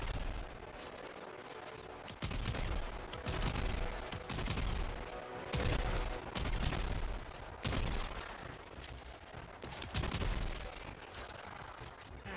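Sustained gunfire from shooting at Vey Hek in Warframe, a loud dense stream of rapid shots with brief pauses around the second and eighth seconds, layered with explosive bursts throughout.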